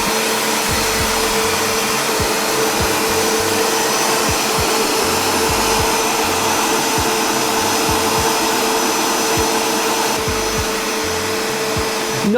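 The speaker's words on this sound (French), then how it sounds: "nous allons continuer donc à fouetter en vitesse maximale jusqu'à ce que la température redescende" A Cooking Chef stand mixer whisks Italian meringue at maximum speed, a loud, constant motor whine with faint rhythmic thumps from the whisk throughout.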